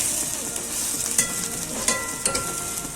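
Ground shrimp heads fry in oil in a pan with a steady, close sizzle, while a spoon stirs them and gives a few sharp scraping knocks. No one speaks.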